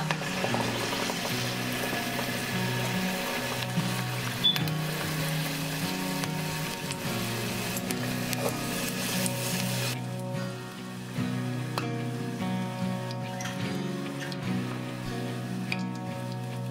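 Dandelion tempura frying in oil in a pot gives a steady, dense sizzle that fills the whole stretch. It comes through close and fairly loud, with no break in the crackle and no voices.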